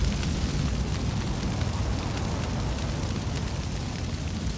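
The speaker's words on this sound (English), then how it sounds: "There we go, starting up the fire." A fire is started up in Far Cry 6, producing a steady, dense crackling roar like rushing flames that continues evenly and loudly throughout without pause.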